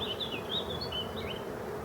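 Wild bees buzz around an opened beehive, a faint, high, wavering drone with thin whining tones that rise and dip as individual insects pass close by.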